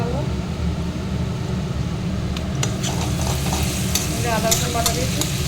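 Onions with ginger garlic paste frying and being stirred in a pan: a steady, close sizzle with scraping stir strokes and occasional sharp clinks, with no voice over it.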